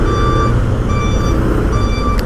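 Trucks at a busy construction site by the Pasig River near Jones Bridge give off steady, evenly spaced reversing beeps over a constant loud rumble of engines and site noise.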